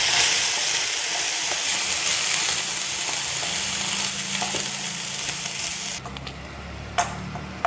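Loud, continuous sizzling of jackfruit seeds frying in a pan, with stirring scrapes; the sizzle dips partway through and then a few sharp clatters follow.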